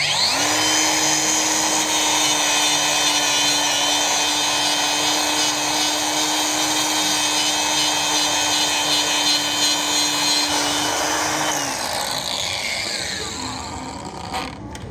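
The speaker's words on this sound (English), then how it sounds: "I found my weapon for shining up the propeller." An abrasive pad spinning on a power tool polishes a boat propeller in a boatyard, a steady high-pitched whine with a constant tone that holds for about eleven seconds, then spins down and fades.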